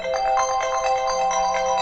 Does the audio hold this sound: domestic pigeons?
no